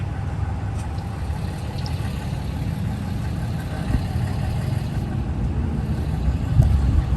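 Steady low engine rumble from several idling motorcycles parked in the Black Hills, South Dakota, continuous and moderately loud, with no voices.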